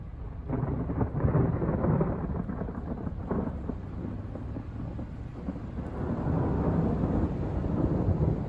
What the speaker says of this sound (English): You guys can hear the thunder though, right?